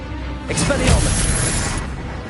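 An Expelliarmus spell is cast in the Hogwarts Legacy video game, giving a short, loud magical burst with a whooshing crackle that swells, then trails off into a steady background.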